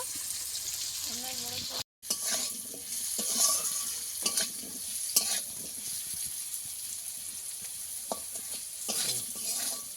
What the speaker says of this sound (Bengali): মিষ্টি আলুগুলো আমি কিছুক্ষণ ভেজে নিয়ে একটু জলও দিয়ে দেব।